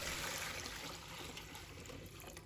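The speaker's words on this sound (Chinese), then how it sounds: "把它放入盆中。 再倒入清水，" Clean water is poured into a basin of eggs, a soft, steady rushing splash that stays even and fairly quiet for a few seconds, with no voices.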